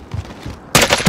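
Sniper gunfire in a multiplayer shooter video game: a quiet lull, then a sudden loud burst of crackling shots and rapid firing that keeps going to the end.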